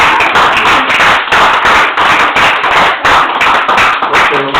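A church congregation clapping loudly and close, rhythmic and dense like beating hands in time, with faint sung or shouted voices blended beneath the steady pulses.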